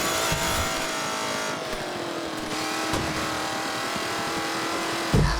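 An RC car races in The Crew Motorfest video game, its engine holding a continuous high whine that shifts pitch slightly over a steady, busy background.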